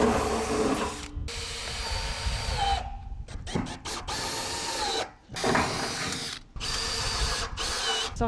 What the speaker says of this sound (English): So I can get a couple of sheets pre-drilled.